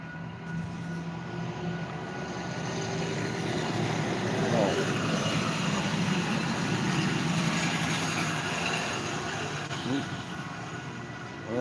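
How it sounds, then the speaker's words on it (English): A broad, steady rumble of a passing train fills the whole stretch, fairly distant and constant, with faint voices underneath. "And here we go again with another damn train."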